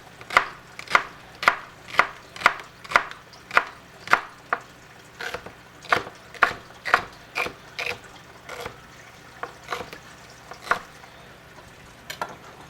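A knife slices vegetables on a cutting board for a roasting-pan base under a lamb roast, a run of crisp evenly spaced chops close up, then slower scattered cuts toward the end.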